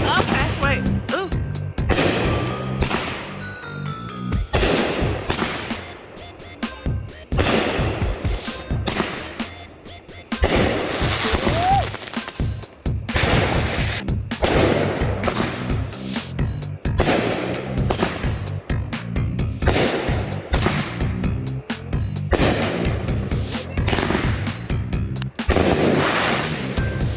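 A consumer fireworks cake called Advanced Pyro 2, a 16-shot item, fires a rapid string of loud sharp bangs and crackling bursts, continuing in dense volleys with people talking and cheering in between.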